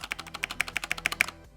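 Budget mechanical keyboard with rattly stabilizers being typed on: a quick run of about a dozen crisp clacky keystrokes at an even pace, close up, some with a sharper rattling edge, then stopping.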